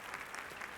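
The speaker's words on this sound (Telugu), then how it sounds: "మనం గట్టిగా చప్పట్లు కొట్టి ఆహ్వానిద్దాం" Audience applause welcoming a primary school group at an evening performance event, a short, faint burst of clapping with no voices.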